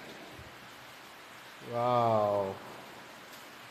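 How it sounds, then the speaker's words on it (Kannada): Steady, faint monsoon rain hisses throughout at a hill-country family home in Malenadu, with a person briefly exclaiming over it midway. "ನೋಡಿ ಫ್ರೆಂಡ್ಸ್ ಮಳೆ."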